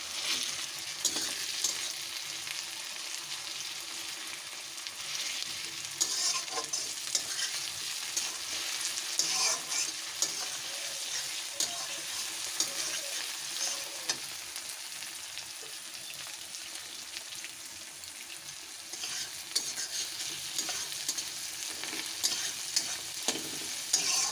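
Tomatoes mashed and stirred in hot refined oil, a dense, steady sizzle and hiss throughout, with frequent soft scraping and squelching from the stirring, close and fairly loud.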